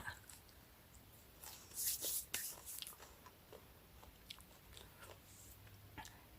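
Someone chewing freshly picked chickweed, soft crunchy bites and mouth sounds up close, loudest in a burst early on then quieter intermittent chewing.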